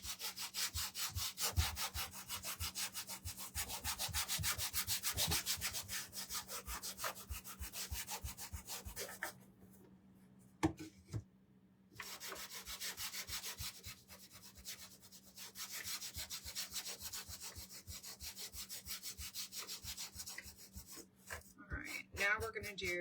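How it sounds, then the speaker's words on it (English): A wooden shamrock decoration is hand sanded with quick, even rasping strokes up close, the rhythmic scrubbing pausing briefly midway before resuming. "the bigger areas, I'm just gonna sand those"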